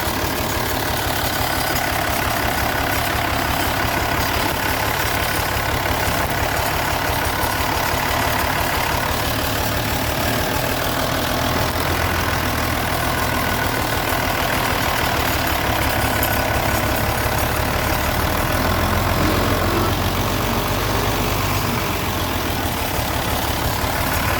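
A vehicle engine idles steadily while the driver shifts into reverse, a continuous loud, rough low rumble with faint knocking that runs unbroken throughout, with no talking.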